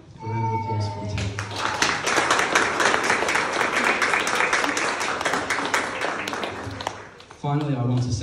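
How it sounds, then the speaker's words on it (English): Audience applause at an art exhibition opening for Tones of Home, a loud, dense burst of clapping lasting several seconds between stretches of a speaker's voice. "A round of applause for the team."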